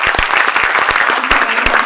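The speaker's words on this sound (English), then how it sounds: "I think Mr. Shah deserves another big round of applause." A close, loud round of applause from an audience at an event, with a few sharp individual claps standing out sharply within the steady crowd clapping.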